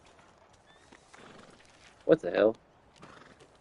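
Horse neighing in the video game Red Dead Redemption 2, a short, loud whinny rising out of quiet ambience for about half a second, with someone speaking briefly nearby.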